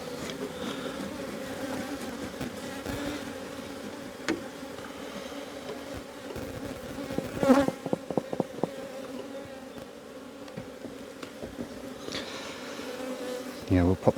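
Honey bees drone steadily around an open hive during a box-swapping inspection, a continuous close buzz with a cluster of sharper clicks and knocks from hive tools midway.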